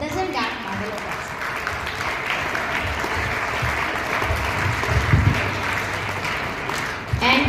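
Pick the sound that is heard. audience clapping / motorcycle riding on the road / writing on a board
audience clapping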